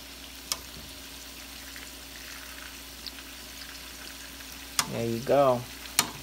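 Meatballs fry quietly in a pan with a low, steady sizzle, broken by sharp utensil clicks as they are flipped. A voice speaks briefly near the end.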